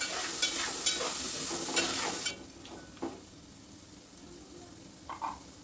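Fresh green peas, washed, stirred into a frying pan over medium heat, with a steady broadband sizzle and several sharp scraping clicks that grow quieter and sparser after the first couple of seconds.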